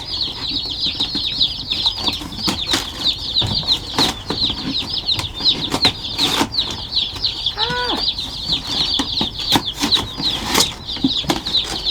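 Baby chicks released from a shipping box peep constantly in a shrill, overlapping chorus, with wings fluttering and cardboard rustling close by and a few louder thumps.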